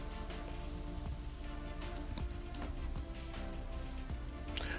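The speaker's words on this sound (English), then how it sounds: "I want to hear the waves crashing up on a cliff" Generated waves crashing against a cliff, a constant hiss of spray and surging water with scattered splashes, quiet and steady, with no voices.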